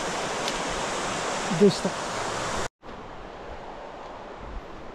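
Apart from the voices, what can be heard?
river flowing near Mammoth Lakes on the Pacific Crest Trail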